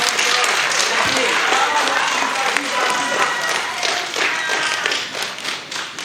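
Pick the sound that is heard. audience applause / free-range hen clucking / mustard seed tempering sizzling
audience applause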